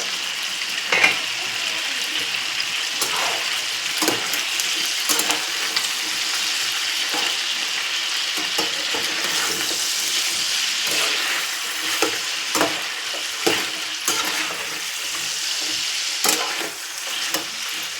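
Chicken legs fry in a pan, giving a steady hiss and sizzle with periodic scraping stirs and clinks of the utensil throughout, close and with no talking.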